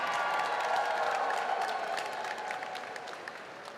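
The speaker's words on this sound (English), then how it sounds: "how about a round of applause for both these young men inside the ring tonight?" Crowd applause and cheering at an amateur boxing fight night, a broad wash of clapping that fades slightly over a few seconds.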